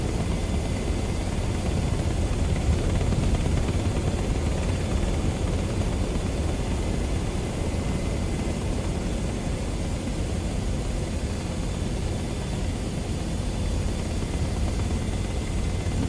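Apache attack helicopter in Microsoft Flight Simulator 2024, a steady broadband rotor and engine roar that holds constant throughout with no talking.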